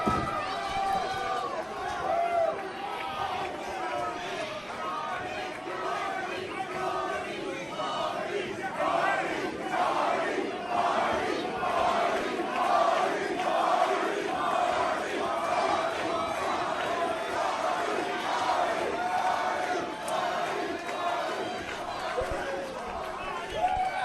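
A packed wrestling arena crowd roars and cheers continuously, a dense sustained wall of voices with rhythmic swells, loud and close throughout.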